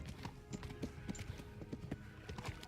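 Horse hooves clop in a steady trotting rhythm in Kingdom Come: Deliverance, a series of soft thuds over quiet background music.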